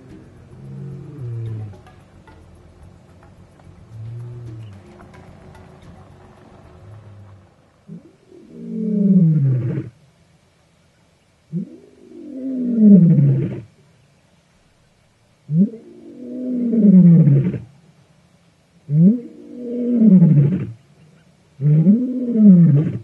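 A big male lion lies within ten meters of safari vehicles and roars, a series of deep, grunting bellows that build into loud, close, rhythmic calls separated by short pauses.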